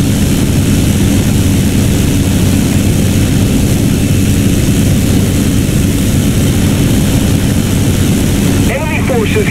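Leopard 1 tank engine idling after ignition in a video game, a steady, loud low rumble that drones on without a break before shifting slightly near the end.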